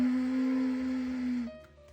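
An alto saxophone holds one buzzy, strained note as a growl attempt made with too little air, sustained about a second and a half before it cuts off, leaving faint breathy noise.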